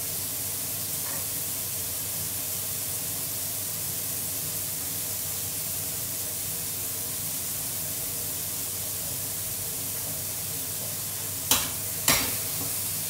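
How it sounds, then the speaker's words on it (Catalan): Cuttlefish sautés over high heat for Mallorcan black rice, a loud, steady frying sizzle running throughout, with two sharp knocks near the end. "I el mateix, anar sofregint aquesta sipi, no? Important, foc fort"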